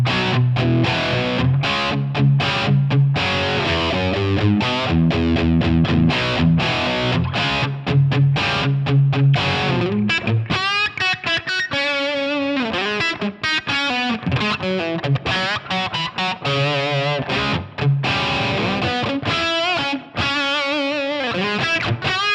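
Gibson SG electric guitar played through a heavy, distorted Oblivion amp model on a Line 6 Helix, sweetener blocks off; loud, dense chugging riffs that give way to sustained, ringing distorted chords and lead lines, with no talking.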